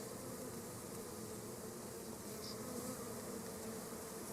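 Honeybees from a swarm buzzing around the hive on an orientation flight, a steady, soft drone of many wings holding at an even, faint level with no voices.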